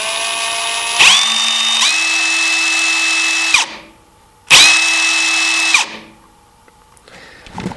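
A Ridgid 18V brushless pulse driver on its high number 3 setting runs twice, driving long 4-inch screws with a loud whining motor pitch that steps up, then stops smoothly each time.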